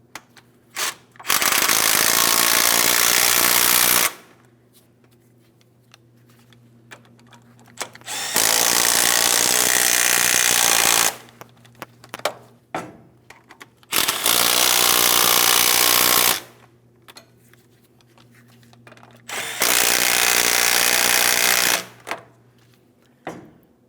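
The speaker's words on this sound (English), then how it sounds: "Now we're going to snug these up in a crisscross manner." Power tool bursts snug the front wheel hub bolts on a 2007-2014 GMC Sierra 2500 HD in crisscross order, four loud buzzing runs of about three seconds each, separated by quiet pauses with small clanks.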